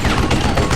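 Gunfire in the Call of Juarez Gunslinger video game, a loud rapid volley of close shots cracking in quick succession with no pause through the short burst.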